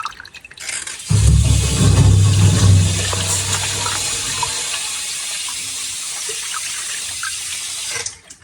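Cold water runs into a glass in one loud, steady pour of about three seconds, then settles into a softer trickle and stops, with no talking.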